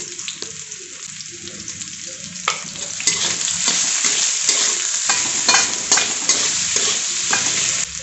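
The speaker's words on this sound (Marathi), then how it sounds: "एक बटाटा उकडून त्याची साल काढून घेतलेला आहे, तो आपण याच्यात परतून घेऊयात चांगला" A peeled boiled potato being sautéed with salt in a pan for sabudana khichdi: a steady oil sizzle with repeated scraping and stirring strokes growing busier, close and alone.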